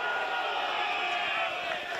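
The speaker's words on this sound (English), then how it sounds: "Gravatt crowd calling for ball." A Mount Gravatt crowd at a QAFL senior football match against Noosa calls out for the ball, a steady blended roar of distant voices heard from the stands without a break.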